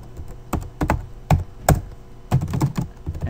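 Close, crisp key taps on a computer keyboard while entering C code, coming in short irregular bursts of single strikes and quick pairs with brief pauses between.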